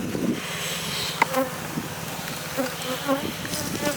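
Honey bees buzzing around an open hive during spring feeding, a close, steady swarm drone with individual bees whining past, mixed with light breeze and faint handling noises.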